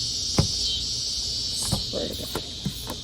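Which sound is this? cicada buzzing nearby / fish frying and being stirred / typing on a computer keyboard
cicada buzzing nearby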